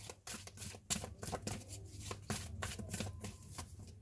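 Tarot cards being shuffled, a rapid, close series of soft riffling flutters and slaps in quick bursts.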